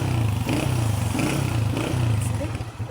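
A 2005 Honda CG125 motorcycle on a ride, its small single-cylinder engine holding a steady, loud mid-pitched drone with wind rush and slight clatter throughout.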